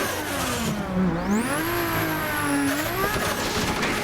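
A race car in the driving game Assetto Corsa accelerates with a steady, loud engine note that climbs in pitch through the gears, a high whine rising above it, and no talking over it.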